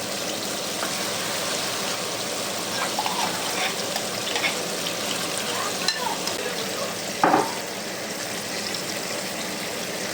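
Masala for stuffed bitter gourd sizzles in a pan as it is stirred and mixed, a continuous soft frying hiss with scraping strokes and a sharper clatter near the end.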